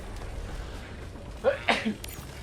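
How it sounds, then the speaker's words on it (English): A single sneeze into a gaming microphone with the person leaning away, a brief burst of two or three quick bursts over low background hum, otherwise quiet. "Oh, hang on, I have to sneeze."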